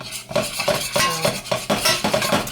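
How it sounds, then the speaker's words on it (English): A spoon stirs chocolate squares melting in a warm pot, its metal repeatedly scraping and clinking against the pot in quick, irregular strokes, close and distinct. "So I just stir them around and let them melt completely."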